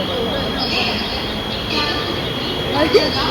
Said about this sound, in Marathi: अशा तऱ्हेने आमची ट्रेन आलेली आहे